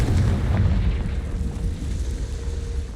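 A rumbling blast from the Confringo explosion spell in a video game, a deep booming roar that fills the short moment and slowly fades, with no voices over it.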